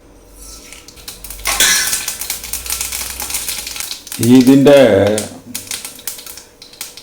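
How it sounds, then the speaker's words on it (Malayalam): Mustard seeds spluttering in hot coconut oil in a heavy-bottomed kadai give a dense, crackling patter of sharp pops that swells and fades, while a voice briefly talks close by. "വെളിച്ചെണ്ണ ചൂടായി കഴിയുമ്പോൾ ആദ്യം കടുക് ഇടുക. കടുക് പൊട്ടിക്കഴിയുമ്പോൾ ഉഴുന്ന് പരിപ്പിടുക."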